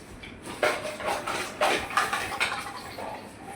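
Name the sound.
pots and dishes being taken out and clattering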